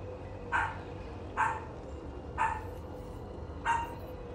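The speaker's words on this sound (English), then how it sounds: "My dog's barking." A dog barks four times at spaced intervals, each bark short and fairly close, over a steady low background hum with no talking.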